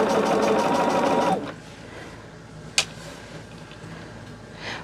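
A sewing machine runs in a fast, steady rattle as it stitches fabric pieces, then stops abruptly after about a second and a half. A faint click and light handling sounds follow.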